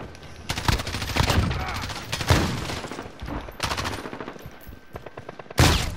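Shotgun gunfire in the video game Modern Warfare: several loud, heavy blasts fired at irregular intervals, each with a sharp crack and a short rumbling tail, and the last shot booming near the end.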